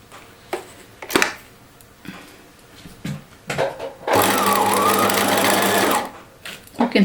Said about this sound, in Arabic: كي كتشوف دابا غادي نبدا كنخيط.